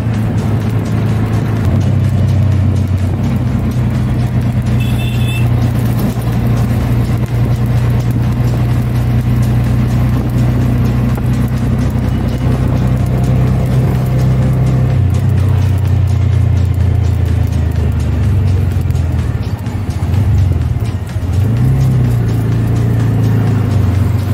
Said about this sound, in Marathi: आता आता रिक्षा चालवत आहे आणि हा परतीचा प्रवास आमचा होत आहे